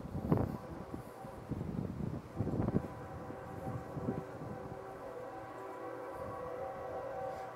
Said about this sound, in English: All right, so the train finally left.